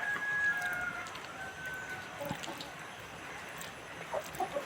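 Chickens of a new, unusual breed cluck softly amid a steady outdoor hum, with a few faint bird calls and short sharper clucks near the end.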